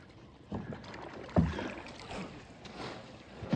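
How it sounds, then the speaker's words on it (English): Canoe or kayak paddled on water on the first paddle of spring in rural countryside, faint soft dips and splashes at intervals over quiet outdoor ambience. "The first paddle of the year."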